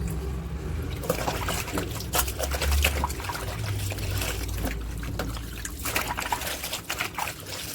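Running water trickling and splashing into a washing machine loaded with bed sheets, a continuous close pour with scattered clunks and bumps.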